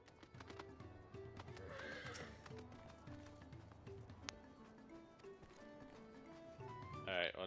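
A water horse in Final Fantasy XIV neighs and whinnies over clip-clopping hooves, game effects layered densely together at moderate volume.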